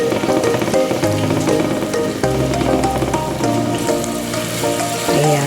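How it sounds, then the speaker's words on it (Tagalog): Garlic fries in hot reused oil in a pan with a dense, steady close sizzle and crackle like rain on a surface, continuous throughout and without talking. "at mainit na itong mantika natin totally. Siya guys, nalagyan na po natin ang ating bawang."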